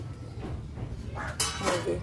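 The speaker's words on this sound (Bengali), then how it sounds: "এই থালটা কড়াইয়ের উপরে বসাই দিলাম এই থালেই আমি এই বাটিগুলা দিয়ে দিব" Small bowls of egg mixture are set onto a perforated metal plate over a wok, giving a few light clinks and knocks of dishware against metal, close and brief.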